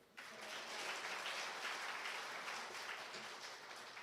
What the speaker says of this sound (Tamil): ஏன் நல்லா கைதட்டலாம்.